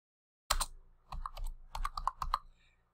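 Commands are typed on a computer keyboard, a close, quiet burst of clacking keystrokes in an irregular rhythm that starts with a sharp press and trails off after about two seconds, with no talk.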